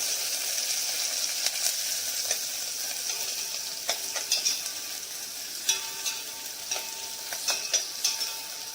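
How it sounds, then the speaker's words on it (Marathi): Onions and curry leaves frying in a pan while being stirred, with a constant bright sizzle broken by repeated utensil taps and scrapes throughout. "सगळं एकत्र टाकून ते व्यवस्थित असं मिक्स करून घेऊन त्याला हलवत राहायचं"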